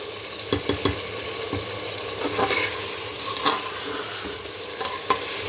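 Country chicken stir-fried in a pan with ginger-garlic paste, cinnamon, cardamom, pepper and cloves, a steady close sizzle broken by repeated scraping strokes of a spatula, with no talking.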